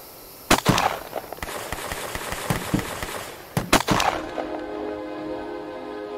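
Pistol gunshots in the VR shooting game Train Chase: a sharp burst of several rapid shots, a scatter of softer hits, then another quick burst followed by a ringing tonal tail.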